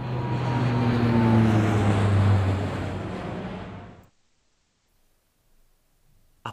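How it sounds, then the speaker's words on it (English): A toy airplane sound played in a children's guessing game: a loud, steady engine roar for about four seconds that cuts off into near silence, with a brief faint click at the end. "A plane."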